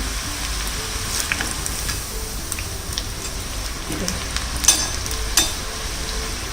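Potato sev (aloo bhujiya) dough frying in hot oil, a steady close crackling sizzle with scattered sharp pops throughout.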